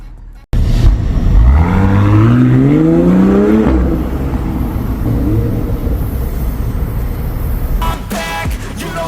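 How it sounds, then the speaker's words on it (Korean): BMW X6 40i fitted with a tuned Brillante exhaust and carbon muffler tips pulls away, its engine note rising loud and close through several gears before settling into a steady cruising drone. "자 그럼 짧고 굵게 주행 영상 가보겠습니다 자 출발"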